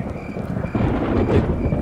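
Thunder rolls through a storm in the Wild West game Call of Juarez, a steady low rumble that swells and grows louder partway through, heard alone without any voices.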